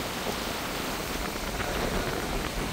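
Heavy rain during the rainy season in Arunachal Pradesh, a dense, steady hiss of rainfall on surfaces, loud and continuous, without any voices.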